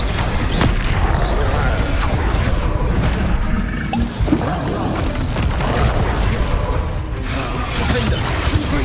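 A Bombarda spell blast in Hogwarts Legacy, heavy booming impacts amid continuous battle noise, a sharp burst near the middle, with talk over the din.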